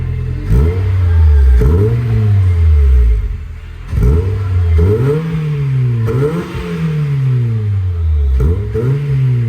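A Honda Fit GD3 fitted with an HKS exhaust revs repeatedly and loudly up close, with four or five sharp climbs in engine pitch, each falling back before the next blip.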